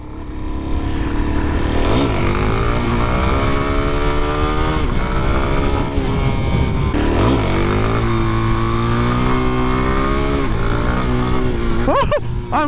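Motorcycle engine running steadily while riding in cold weather, loud and close with rising and falling revs through gear shifts, a continuous drone throughout.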